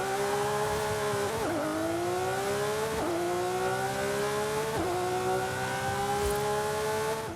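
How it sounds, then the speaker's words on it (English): The V12 of a Lamborghini Countach in Forza Horizon 5 revs up through the gears, three rising pulls, each broken by a quick shift dip, loud, close and droning with no talk. "let's go ahead and take a listen to that V12"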